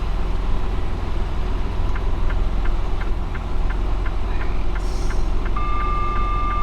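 Reversing beeps from a truck repeat at an even pace over a loud, steady engine idle, close by, with a brief higher whine near the end and no talking.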